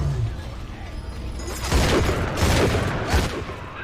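Turrets open fire in BioShock, a burst of rapid mechanical gunfire and booms that starts partway through, loud and close, after a quieter stretch at the start.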